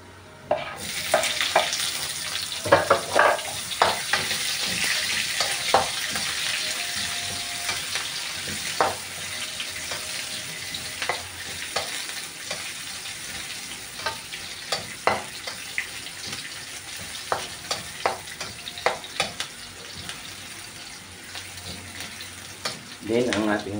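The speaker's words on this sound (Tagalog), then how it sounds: "At pag nag golden brown na po, ilagay na po natin yung ating sibuyas." Onion frying with golden-brown garlic in a pan for prawn sarsyado, a continuous moderate sizzle with scattered stirring clicks and scrapes over roughly twenty seconds.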